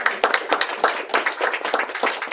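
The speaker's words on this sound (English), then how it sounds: "One more round of applause for everybody." Close, lively applause at a dedication ceremony for a healing center, with dense overlapping handclaps in an uneven rhythm, loud and near throughout.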